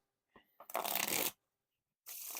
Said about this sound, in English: You can definitely tell with the riffle shuffles and bridge shuffles that the cards are slightly more on the more thicker and stiffer side.